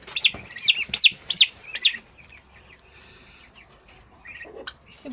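High, sharp peeping calls from Hybrid Converter turkey poults, five in a rapid run, then softer scattered chirps, close by.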